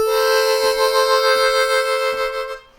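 Blues lick on a Bb harmonica, a loud, sustained reedy note with bright overtones, lightly articulated into a few pulses before trailing off at the end, played solo and close.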